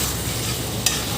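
Jackfruit curry sizzles in a pan as it is stirred, a steady close-up frying hiss with a brief scrape of the spoon near the end.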